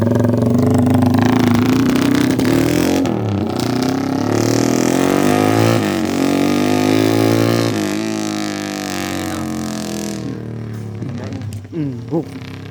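Motorcycle engine tuned for rapid backfire, revving loud and close with rising and falling pitch sweeps, settling to a rougher idle near the end with a few sharp pops.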